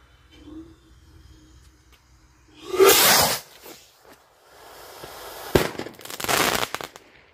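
Homemade rockets built from Pringles cans launch outdoors in two loud whooshing bursts, one short blast followed after a pause by a longer crackling rush, with quiet background sound in between.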